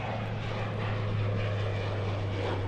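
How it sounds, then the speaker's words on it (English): An airliner takes off at Los Angeles airport with a loud, steady engine roar that holds throughout and carries a strong low hum, without speech. "Beautiful takeoff."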